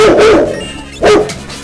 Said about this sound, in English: Sorry, the dog likes to bark.